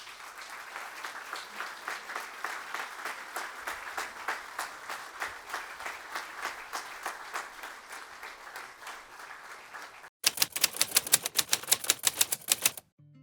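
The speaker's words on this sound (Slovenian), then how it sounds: "mi pa seveda ploskamo" An audience at a formal ceremonial session applauds an award presentation, the clapping steady and rhythmic for about ten seconds, then a sharper, louder burst of claps near the end before it stops.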